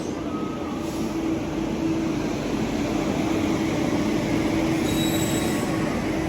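The Thiruvananthapuram–Shalimar superfast express rolls into platform 3, its wheels squealing against the rails in a loud, sustained metallic screech over the heavy rumble of the train.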